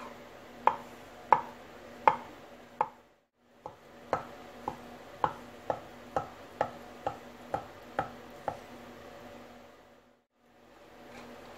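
A knife slices thinly through a rolled, cooled egg yolk omelette on a cutting board, about a dozen crisp, evenly spaced taps close up in a quiet kitchen, each cut followed by a short ring.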